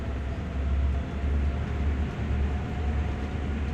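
Low, steady rumble of a freight train running in Train Sim World 2020, a continuous heavy drone with faint rhythmic wheel noise and no talking.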